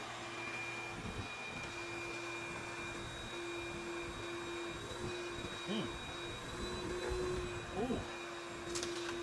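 A vacuum cleaner sucks up a pile of lint from under giant laundromat dryers, a steady droning whine throughout with faint voices and a brief exclamation over it.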